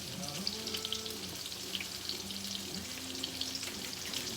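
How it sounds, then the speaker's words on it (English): Cutlets of beef chuck fry in a pan with a soft, steady sizzle and crackle, fairly quiet, with faint tonal background noise underneath. "You never want to cram or put too many cutlets in the pan, or else then it doesn't fry, it boils and steams."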